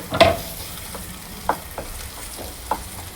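Onions and spices sauté in a clay pot over a wood-fired stove, with a faint steady sizzle broken by a few sharp scrapes of a stirring spoon.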